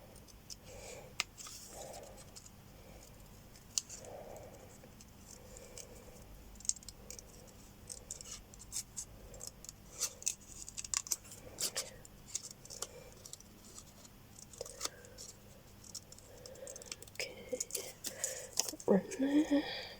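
Scissors snip through paper to trim off a branch shape, a string of soft close cuts and rustles that thicken toward the end, with a voice talking over them.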